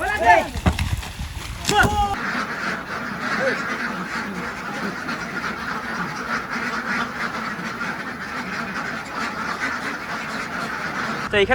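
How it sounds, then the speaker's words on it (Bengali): Ducks, a flock of about 810, quack in a brief burst at the start, then a dense, noisy outdoor murmur continues, with voices talking faintly under it. "কতগুলো হাঁস আছে বললেন আটশো দশটা"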